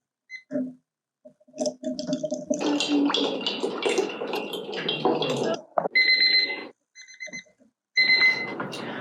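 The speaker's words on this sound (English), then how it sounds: "I'm going to go ahead and stir for the minute" A soil sample being stirred in water in a testing container, with rhythmic clinking and swishing strokes that run steadily for several seconds, then break into short bursts with pauses, close and fairly loud.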